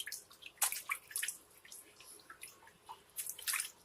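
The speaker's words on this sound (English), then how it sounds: "I rinse him off very lightly. And then I rinse his hair off really gently." Water splashes and drips lightly while a baby is rinsed during a bath, with soft irregular trickles and drops close by and fairly quiet.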